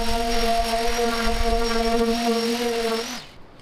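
A Harbor Freight palm sander runs with a steady, high-pitched electric motor whine and buzzing vibration, close and loud, then winds down and stops near the end.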